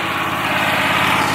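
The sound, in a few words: Quick Trak stand-on mower mowing a steep hill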